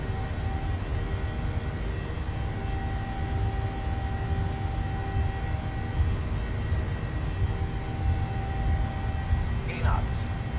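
Boeing 737 engines in Microsoft Flight Simulator spool at takeoff thrust, giving a steady, moderate roar with a thin whining tone that holds throughout.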